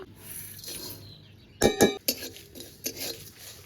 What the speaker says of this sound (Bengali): এটাই কিন্তু প্রথমে শুকনো খোলায় ভেজে নেব।